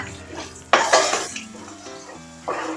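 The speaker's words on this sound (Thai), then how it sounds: "ผัดพริกแกงให้หอมนะคะ" Thai massaman curry paste stir-fried in a pan for chicken massaman, with a spoon scraping and clanking against the metal in several loud bursts over a soft sizzle, no talking.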